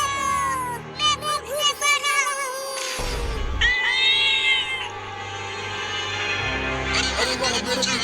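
A cartoon kitten gives a run of high, wavering meows, some quick and choppy, others drawn out, mixed with animated voices and a low thud partway through.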